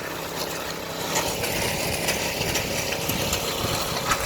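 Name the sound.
small portable generator idling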